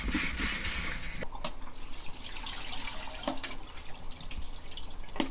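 Blanched hijiki seaweed and its cooking water pouring out, a loud rushing splash for the first second, then scattered drips, clinks and small watery sounds in a kitchen.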